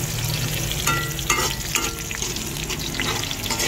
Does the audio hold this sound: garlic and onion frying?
yes